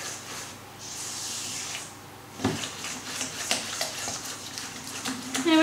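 Vanilla and a large egg are stirred into cookie batter for a giant cookie and brownie cake, with soft scraping swishes first, then sharper knocks and taps of the spoon against the bowl, close and fairly quiet.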